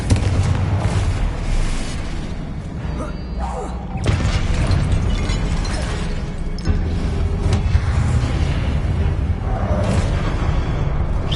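Repeated Confringo spell explosions in Hogwarts Legacy during a magic duel, a string of loud booming impacts and rumbling bursts over dense battle noise.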